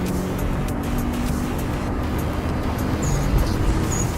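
A Subaru Legacy BD5 engine pulls hard under heavy throttle from inside the car, a steady loud droning engine note over road noise, with no talking.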